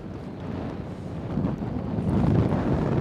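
Strong wind buffets the microphone outdoors during a fishing outing, a steady broadband roar that swells louder in the second half, with no talking.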